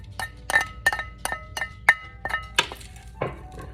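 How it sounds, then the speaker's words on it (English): Ingredients for a vegan broccoli salad with soy bacon bits, sunflower seeds, red onion and cran raisins are stirred in a bowl, giving about ten sharp clinks and knocks in an uneven rhythm, close and fairly loud. "And we're just gonna stir it up."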